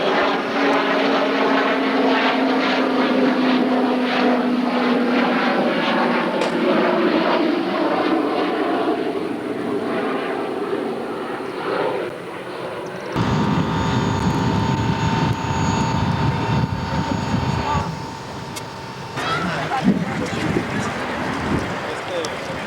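An F-111 military jet flies over a 1991 Moody AFB airshow, a loud steady engine roar that rises in the second half, with people talking through much of it.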